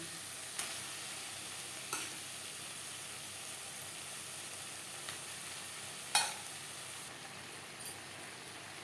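Prawns stirred with spices in a frying pan for Bengali potol chingri give off a soft, steady sizzling hiss, quiet and fairly distant, with a few brief scraping clicks from the spatula and no talking.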